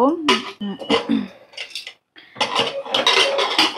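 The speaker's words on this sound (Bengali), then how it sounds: "এবার আমি কুকারটা দিয়ে আটকে দেব।" Metal clanks and clatters as a pressure cooker lid is fitted and locked over salted chickpeas set to boil, in a few close knocks with a brief pause, while someone speaks over it.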